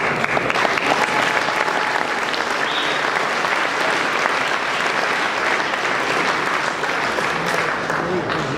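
Audience applause fills a banquet hall at a Cadillac LaSalle Club awards banquet, steady and loud for the whole stretch with some crowd noise and voices mixed in.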